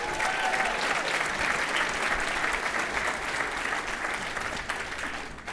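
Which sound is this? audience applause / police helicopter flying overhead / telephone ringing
audience applause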